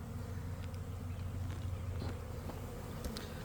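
Honey bees buzzing steadily around the entrance of a hive that has just been relocated, a soft continuous drone of many wings with individual bees passing close now and then.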